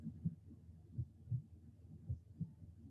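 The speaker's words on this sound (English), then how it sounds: "the reassuring beat of your own heart" A soft, muffled heartbeat thumps in a steady rhythm, several low beats about a second apart, faint and close.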